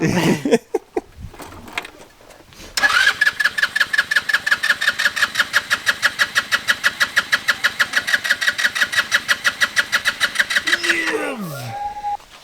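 A GY6 scooter engine cranks, catches and runs with a fast, steady puttering beat for several seconds before dying away, close and loud, with people talking briefly around it.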